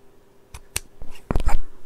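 Scissors cut through material with a few quick, close, crisp snips, spaced unevenly and ending in a short louder burst of cutting.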